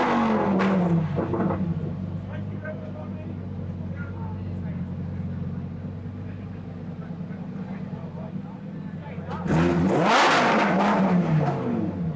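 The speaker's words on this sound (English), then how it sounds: "that was a lot of fun driving the Huracan EVO" A Lamborghini Huracan EVO engine at the Goodwood Festival of Speed, droning steadily and then surging into a loud rev near the end, close to the listener with no voices heard.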